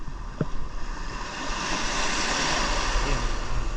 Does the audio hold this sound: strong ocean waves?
yes